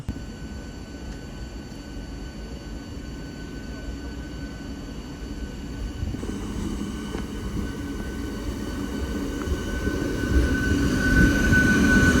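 A train running near Walayar station on the Kerala–Tamil Nadu line in monsoon weather, a steady low rumble that builds gradually louder, with a faint tonal whine above.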